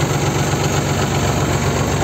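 Valmet 500 tractor engine running steadily at close range, a loud, even low diesel chug with constant rumble and vibration and no pauses.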